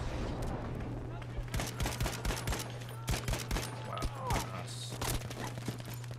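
Rapid bursts of gunfire in Battlefield 5 conquest multiplayer, irregular cracks and volleys at mid distance over a steady hum, with a player talking quietly underneath.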